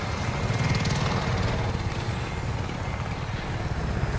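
A helicopter close by in a multiplayer shooter video game makes a steady, loud rotor and engine drone that holds unbroken throughout, with no talking.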